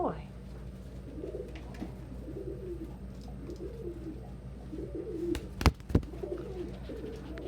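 A pet pigeon-like bird in an indoor quarantine space coos softly and repeatedly in low rolling phrases, with a couple of sharp clicks near the end.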